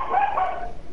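A dog barks and yips in a short, close burst, with a whimpering, high-pitched tone.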